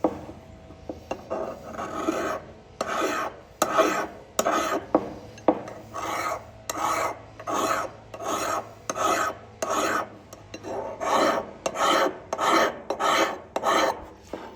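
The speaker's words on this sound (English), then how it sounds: "I just want to dial it in with the hand file here." Rhythmic rasping strokes of a hand file dressing a Lie-Nielsen Model Maker plane blade, steady back-and-forth passes close up with no talking.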